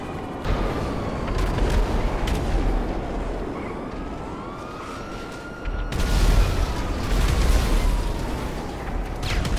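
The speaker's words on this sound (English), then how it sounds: "There is just explosions going off everywhere." Heavy booming explosions and rumbling blasts go off repeatedly in GTA Online, with a sweeping whistle-like tone and a louder burst of detonations near the end.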